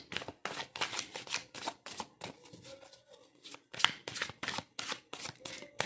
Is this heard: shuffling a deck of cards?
yes